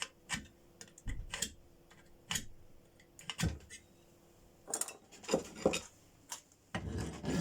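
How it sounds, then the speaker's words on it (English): Metal file working the bevel of a homemade mortise chisel made from scrap iron, a few short, quiet rasping strokes in irregular bursts with gaps of near silence. "just to be on the safe side, a little bit more filing"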